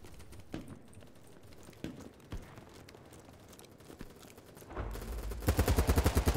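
Gunfire in BattleBit: scattered distant shots and cracks early, then close, loud rapid automatic fire bursting in a steady rhythm toward the end.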